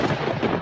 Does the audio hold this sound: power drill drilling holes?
no